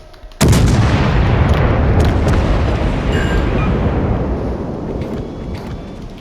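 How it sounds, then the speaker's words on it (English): A heavy torpedo strike on a warship in World of Warships Legends, a sudden loud booming blast that rolls on as a long, rumbling explosion with no voices over it. "what he doesn't know is he's gonna get the torpedo"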